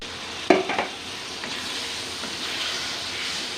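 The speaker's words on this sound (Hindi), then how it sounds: "मसाला हमारा भून चुका है। अब इसमें हम कोफ्ते डालेंगे।" Mutton koftas drop into hot fried masala with a sudden loud hiss, which settles into a steady, close sizzle of frying.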